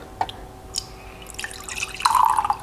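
Water poured into a cup fitted with a liquid level indicator hooked on the rim, giving faint drips and trickles followed by a louder buzzing beep near the end as the level is reached.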